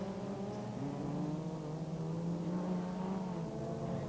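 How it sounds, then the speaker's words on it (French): A rallycross race car, driven by a novice in an early heat, roars past with a steady, loud engine drone that rises and falls slightly, dense and continuous, with no speech over it. "regardez cette voiture pilotée par Phil Long"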